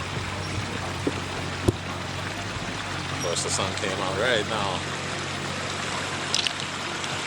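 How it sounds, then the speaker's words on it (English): Water running through a newly built pondless waterfall in a front yard, a steady soft trickling and splashing flow under someone talking, with a few small knocks. "Check it out, we got water running."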